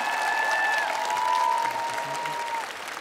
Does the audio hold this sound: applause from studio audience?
yes